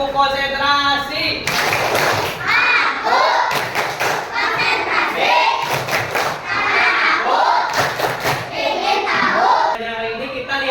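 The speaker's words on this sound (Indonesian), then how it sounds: "Tepuk konsentrasi." Children in a classroom perform a rhythmic concentration clap, loud group claps and thumps in repeated bursts with chanted voices between them, close and energetic.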